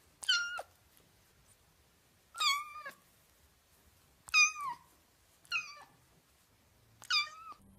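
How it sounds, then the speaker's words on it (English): Five separate kitten meows, evenly spaced and clear, in a storybook sound effect, each a short rising-then-falling cry against near silence. "Princess Grace wrapped the wet kitten in her cape next to her heart"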